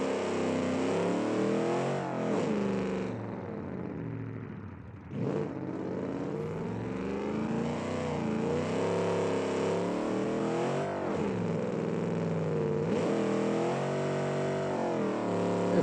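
A car engine in the BeamNG racing game, a cheap third-world supercar, revs hard and climbs through gears, dipping briefly when lifting off before surging again in a loud, continuous, close engine note.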